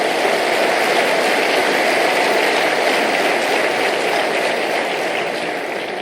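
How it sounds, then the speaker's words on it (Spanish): A church congregation applauds in a dense, steady roar of clapping that stays loud and unbroken for the whole stretch, easing off only slightly at the end. "Dar un aplauso a Jesús."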